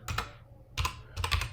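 Keys clatter on a computer keyboard as JavaScript code is typed in an editor, three short close bursts of clicking separated by brief pauses, with no voices.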